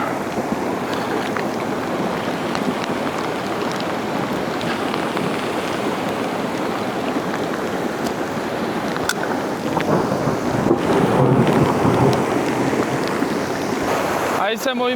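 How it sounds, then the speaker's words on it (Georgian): A thunderstorm with heavy rain at a riverside campsite in Racha, Georgia: constant loud rain and rushing water, with a swell of rumbling thunder near the end. "ისე უცებ დაიწყო ჭექაქუხილი და წვიმაც ისე მალე მოვიდა, რომ საერთოდ არ ველოდებოდი"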